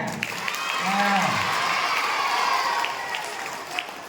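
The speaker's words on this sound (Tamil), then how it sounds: "எல்லாம் கைதட்டுங்க" An audience of students, parents and teachers at a school debate programme claps in a steady wash, with a voice briefly audible near the start.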